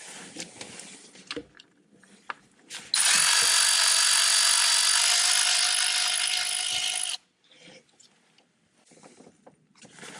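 A power ratchet or driver with an E7 socket spins out the coil bracket bolts on a BMW N62 V8 engine, one loud steady whir of about four seconds between quieter clicks and handling noises.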